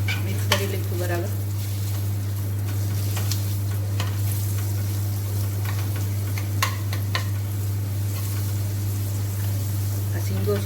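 Steady sizzling of a tempering in hot oil with turmeric, asafoetida and garlic chutney, being stirred with occasional light spoon clinks against the pan, under a constant low electrical hum.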